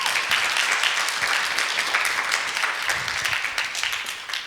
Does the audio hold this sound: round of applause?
yes